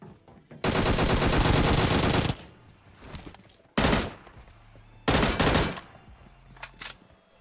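Video game gunfire rattles in loud sustained bursts: a long automatic volley, then two shorter bursts, with brief quieter gaps between.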